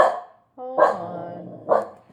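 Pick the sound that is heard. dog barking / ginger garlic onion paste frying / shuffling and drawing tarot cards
dog barking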